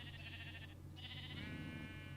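A sheep bleats twice in strained, wavering cries as a wolf attacks it, the calls loud and close over a steady low hum.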